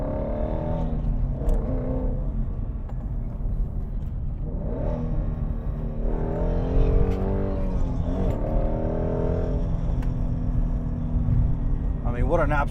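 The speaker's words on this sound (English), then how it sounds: "in the Shelby GT350 Mustang, and you can automatically just hear it. You have that sweet exhaust" A 2017 Ford Mustang Shelby GT350 with its flat-plane 5.2-liter Voodoo V8 in sport mode accelerates hard, the engine and exhaust climbing through rising revs in repeated pulls with loud, steady rumbling throughout.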